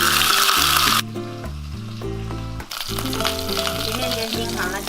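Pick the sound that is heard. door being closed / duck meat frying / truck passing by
duck meat frying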